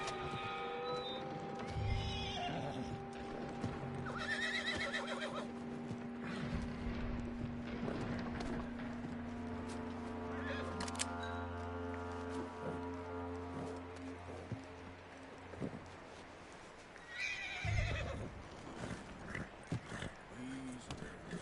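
Horse in Red Dead Redemption whinnying loudly, with clip-clop hoofbeats and a long low rumble, plus another whinny near the end, over game ambience with talk around it.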